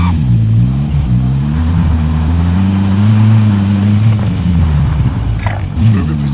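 Loud, droning engine of a car driven in Call of Duty Warzone, holding a steady hum with slight pitch rises and falls throughout, close and dominant.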